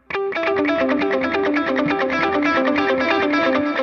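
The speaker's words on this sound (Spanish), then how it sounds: "tal vez solo lo quieren tocar con un overdrive" Electric guitar run through an overdrive effect on a Line 6 POD Go, playing a steady arpeggiated pattern of bright, sustained notes with a slightly gritty edge, loud and continuous without any talk.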